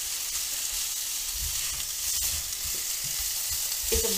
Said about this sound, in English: I like crispy potatoes, so I'm going to add this. Make them brown. Keep stirring.